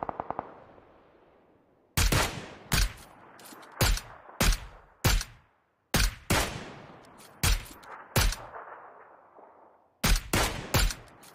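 Loud gunshots in the video game PUBG Lite come in short bursts of one to three sharp cracks. Each burst trails off in a ringing echo, and there are brief pauses between the volleys.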